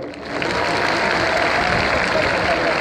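Dense, steady applause from a large crowd at a PTI political rally in Karachi, sustained and loud throughout, with a bit of voice mixed into the clapping.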